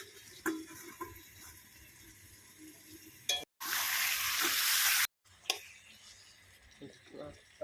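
Chicken curry being stirred in a pan, soft scraping and clinks at close range, broken by a short loud burst of hiss mid-way, with faint background voice.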